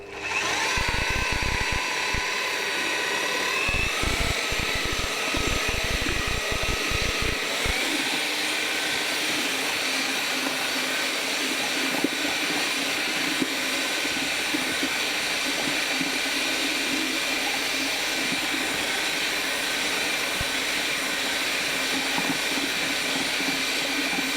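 An electric paddle mixer churns plaster in a bucket at slow speed, a steady whining motor drone with rhythmic thumping bursts early on, then a smooth continuous hum to the end.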